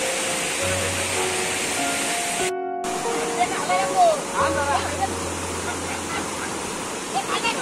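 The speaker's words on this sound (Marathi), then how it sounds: "त्या साईडला भरपूर प्रवाह आहे. हा एक ओढा आहे" A steady broadband rush of a flowing stream in the Konkan countryside fills the background, with faint voices and brief tones over it.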